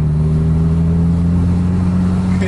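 A motorcycle engine at a drag race holds a loud, steady, droning note, with a faint higher whine rising right at the end.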